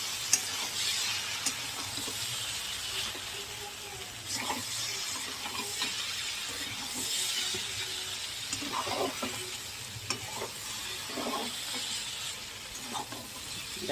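Egg chowmein noodles stirred and fried in a pan, a steady close sizzle with scraping, clattering stirs recurring throughout, no talking.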